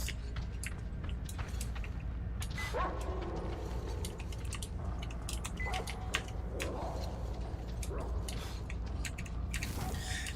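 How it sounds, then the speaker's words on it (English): A dog barks in short, repeated bursts over about ten seconds. The barks sit under a busy, clattering background of chewing and mechanical noise at moderate volume. "That is a dog with a very large mouth."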